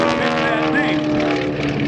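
A 1943-built vintage propeller airplane makes a rolling pass at an air show, its engine drone loud and sustained while an announcer talks over it.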